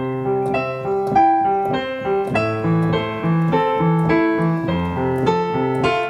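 Solo piano plays steady chords and melody at an even, unchanging loudness, with flat, mechanical phrasing and no swells or fades.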